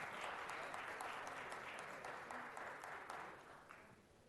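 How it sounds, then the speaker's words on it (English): A city council meeting audience gives a round of applause for Tyler, a dense, even wash of clapping from a crowd that holds steady and then slowly fades, fairly distant and soft in the chamber. "Another big round of applause for Tyler."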